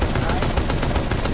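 Gunfire in the tactical shooter Rainbow Six Siege, with loud, dense shotgun blasts running together in a rapid, continuous barrage that fills the whole stretch.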